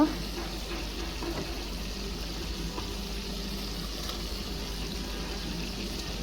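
Fish dropped into spice masala that has been fried down in a pan, a steady close sizzle that stays even throughout with no pause.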